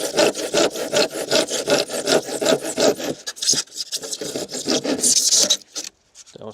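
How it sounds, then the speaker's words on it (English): Rhythmic hand sawing at close range, quick back-and-forth rasping strokes through a gritty insulation brick, slowing and stopping near the end. "enjoy the hand sawing."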